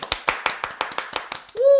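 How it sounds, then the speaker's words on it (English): Hands clap about nine times in an even, brisk rhythm to welcome a guest onto a talk show, close and distinct, and a voice begins to speak as the clapping ends. "Everyone, please give a round of applause for William Nicholson."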